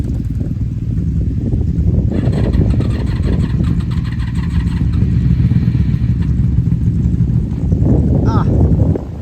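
Two third-generation Honda Magna VF750C motorcycles, one with Vance Hines exhaust and one with the factory exhaust without baffles, cranking and firing up into a loud, rumbling mid-pitched idle nearby, with a brief higher burst near the end.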